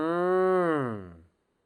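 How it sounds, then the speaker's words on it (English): A single cow moos once, a loud close harmonic low that slides downward and fades after about a second, with nothing else around it. "Very good, a cow."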